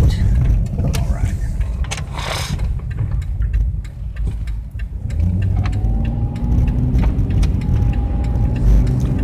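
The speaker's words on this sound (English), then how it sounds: "Oh, well, there's a car." A car passes by as a continuous, loud engine and road rumble that swells, dips briefly and rises again, with faint voices underneath.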